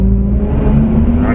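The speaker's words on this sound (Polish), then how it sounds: "Tak, auto sportowe. Honda Civic przeleciała." A Honda Civic sports car speeds past with a steady, loud engine drone and low rumble throughout, no talking over it.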